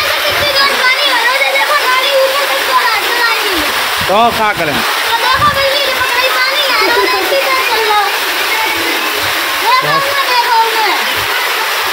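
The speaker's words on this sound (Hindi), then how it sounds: "देखो गाइस इतनी बारिश हो रही देखो नालियां से भरी हुई" Heavy rain pours steadily and water rushes loudly through overflowing drains, a constant splashing roar close by, with a voice briefly speaking over it.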